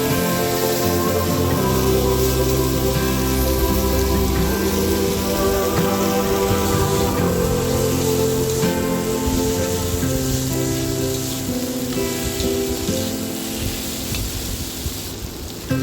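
Long potato strips sizzling steadily in hot oil in a pan while being cooked for a fish chachchari, a dense, loud, continuous crackle and hiss with no talking.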